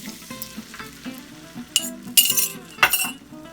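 Eggs hit a buttered pan for a parmesan crust omelette, giving a steady close sizzle and frying crackle with a few sharper spikes of stirring and utensil clinks against the pan.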